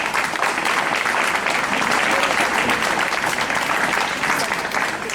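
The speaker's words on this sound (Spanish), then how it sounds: "Un fuerte aplauso para ella." An outdoor audience in a plaza applauds as an actress comes on stage at a popular tribute event, a dense, steady, loud wash of clapping lasting several seconds without a break.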